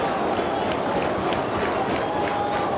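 Dense, roaring wrestling arena crowd during a Samoa Joe vs CM Punk match, cheering and shouting steadily and loudly with scattered clapping, a continuous wall of noise throughout.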